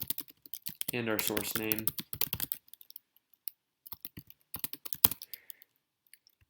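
Short bursts of keystrokes on a computer keyboard as a command is typed on a Mac, scattered clicks spread over several seconds, with a voice speaking briefly near the start.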